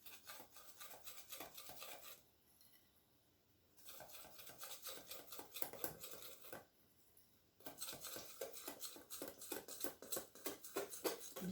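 Savane cake batter with egg and milk being mixed in a bowl, quiet repeated scraping and rubbing strokes that pause twice, close and alone.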